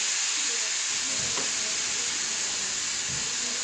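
Shrimp fried rice with vegetables sizzling loudly in a pan, a dense, steady frying hiss filling the whole stretch while a utensil stirs the rice in a few soft, low scrapes.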